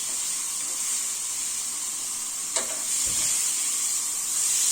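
A steak sizzles on a hot skillet, a continuous bright hiss with a brief sharp crackle as a spatula presses it down, followed by a soft low knock.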